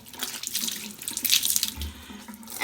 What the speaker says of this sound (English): I'm going to run the towel underneath the lukewarm water